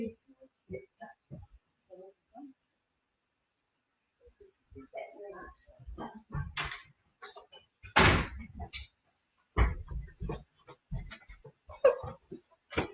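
A house door is opened and shut, with a few knocks and thuds, a sharp slam and several loud clunks spread across the stretch between quiet gaps, close by, with a voice speaking briefly in between.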